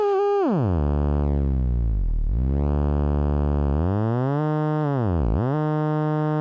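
A buzzy, harmonically rich synth tone from an LFO running at audio rate holds steady, then swoops down in pitch and back up twice, sliding smoothly, loud and alone.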